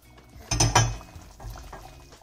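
About 200 grams of mushrooms drop into a pan of potatoes, and a spoon clanks against the metal in two sharp knocks. Softer scraping stirs follow, with no talking.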